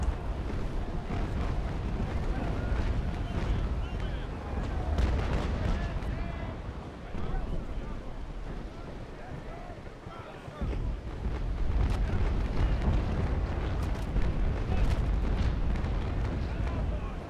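Dense, continuous rumble of naval cannon broadsides during a USA versus pirates port battle at Islamorada in the Naval Action game, with overlapping booms and bursts that keep a steady loud roar throughout and a brief dip midway.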